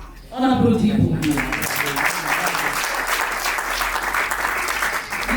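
An audience at a civil wedding applauds the bride's father, steady, loud clapping that starts after a brief spoken word and continues throughout.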